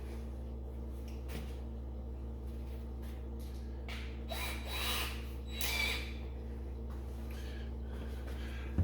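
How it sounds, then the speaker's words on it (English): A power drill whirs in short bursts, driving screws into the panel of a GE Cafe CYE23TSDCSS refrigerator that won't cool, with faint clicks and handling noise between runs over a steady hum. "I'm using a drill, but I'm being very careful not to over torque."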